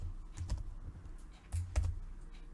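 Typing on a computer keyboard while entering a command in R, a few close irregular key clicks and thumps, heard alone.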